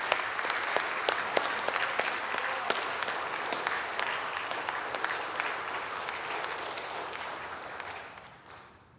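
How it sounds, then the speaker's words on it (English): A room full of guests claps warmly at an Eagle Scout court of honor, steady applause with distinct individual claps, carrying on for several seconds before tapering off at the end. "one more round of applause for him"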